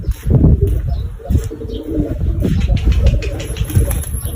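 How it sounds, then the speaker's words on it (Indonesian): A free-flying pigeon coos and flutters close by, with soft calls and brief wing flaps repeating over several seconds in an outdoor setting. "ini ada merpati free fly ya"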